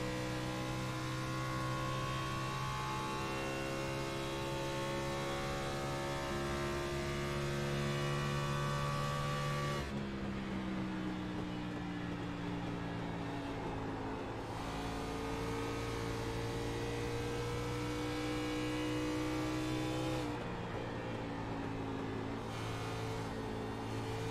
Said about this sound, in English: sounds of the cars here this evening.